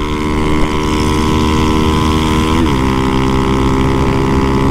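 Honda Fan 150 motorcycle exhaust droning loud and steady while riding, a continuous engine tone with a slight pitch shift partway through.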